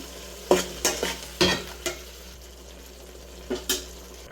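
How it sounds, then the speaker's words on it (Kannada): A spatula scrapes through thick masala paste in a pan in several sharp strokes, over a low, steady sizzle of frying. "ಮಸಾಲೆನೂ ಕೂಡ ಹಾಕ್ಬಿಟ್ಟು ಮಿಕ್ಸ್ ಮಾಡ್ಕೊಳ್ಳಿ. ಅದು ಹಸಿ ವಾಸನೆ ಹೋಗೋ ತನಕ ಸ್ವಲ್ಪ ಫ್ರೈ ಮಾಡಿ"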